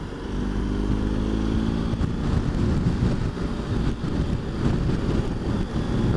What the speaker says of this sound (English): That wind is quite deceiving.